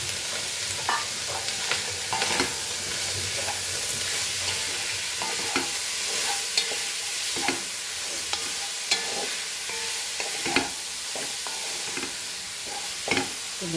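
Chilies and tomato frying in a pan for Goan pork pulao, a steady close sizzle and crackle with scattered clicks and scrapes from stirring.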